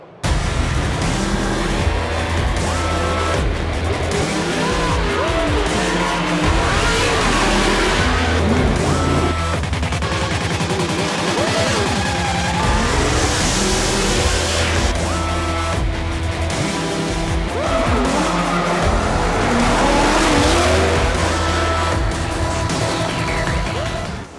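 Ford Mustang drift car driven by a pro drifter, engine roaring loud and continuous with long screeching tire squeals and revving swells throughout, close and without speech.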